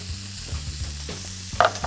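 Onions and burgers fry in a hot pan with a steady crackling sizzle, broken by short scraping stirs and a brief louder hiss toward the end; no talking.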